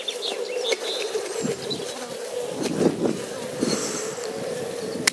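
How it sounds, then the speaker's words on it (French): A dense swarm of honey bees hums loudly and agitatedly during a powdered-sugar varroa count, a constant buzzing with sharper flares as individual insects pass close. "les abeilles, elles gueulent, elles aiment pas ça"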